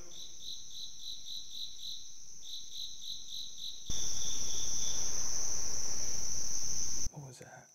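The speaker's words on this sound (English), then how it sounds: "Do the crickets annoy you guys too?" Crickets chirp in a steady, rhythmic pulsing at night inside a reputedly haunted manor in Illinois, loud and close, with a louder continuous insect trill taking over partway through before it cuts off.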